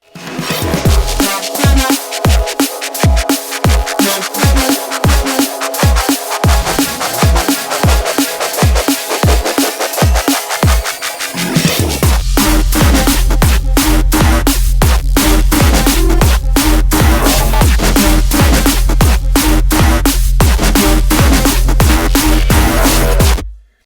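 A loud, driving drum and bass track built from Massive synth presets, with punchy drums and synths; a choppy pulsing intro gives way to a full, dense breakbeat groove with heavy sub bass.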